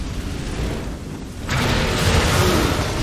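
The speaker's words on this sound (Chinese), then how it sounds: "里头都是火药，这车轮滚滚不会爆吗？ 果然，他起身就把这个炸了" A gunpowder cart blows up in the action game Nioh: a sudden loud burst halfway through that gives way to a sustained roaring rumble, following steady background game noise.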